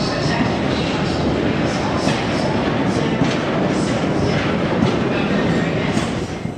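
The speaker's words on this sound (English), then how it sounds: "Quick look at the trams at Sheffield." A tram at Sheffield station, a loud continuous rolling rumble with rhythmic wheel clatter and some metallic squeal, fading slightly at the end, with faint voices underneath.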